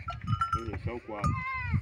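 Goats and kids on a northeastern Brazilian goat farm bleat loudly and close by, several wavering calls in quick succession, mixed with people talking.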